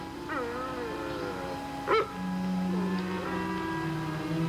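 A dog whines and whimpers in a 1950s television drama scene, thin high whimpers rising and falling over a quiet background, with a brief sharper yelp near the middle and a sustained low tone afterward.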